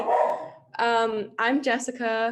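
A dog barks several times close by, loud, clipped yelps in quick succession, with someone briefly talking before them.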